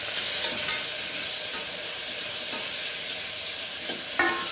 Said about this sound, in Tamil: அந்த தக்காளியும் போட்டு நம்ம வதக்கிக்கலாம்.